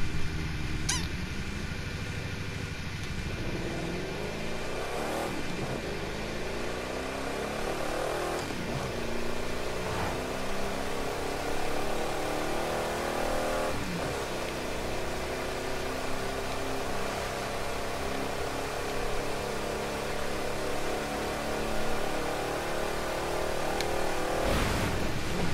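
Chevrolet Corvette C2 engine in The Crew 2, driving through Miami, with a loud continuous engine drone that rises in pitch through repeated revs and gear shifts for the whole stretch.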